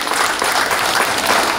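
Steady, dense applause from an audience at an event in Varna, continuous and fairly loud throughout without any voices over it.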